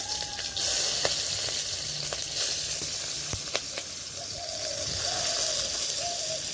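Chopped onions and green chilies sizzle steadily in hot oil, a bright continuous hiss with scattered pops and clicks and a few faint utensil taps, close and fairly loud.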